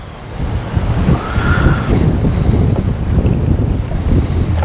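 Wind gusts at a lake during fishing, a loud, steady roar of wind buffeting the microphone with rumbling low noise and faint lapping water throughout.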